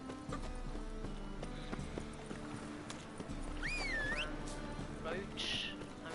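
Roach the horse in The Witcher 3: Wild Hunt trots along with steady rhythmic hoofbeats, accompanied by a whinny and ambient game sounds under a speaking voice.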